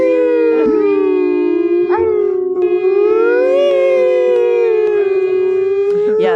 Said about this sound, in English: That sounds like a siren, you guys.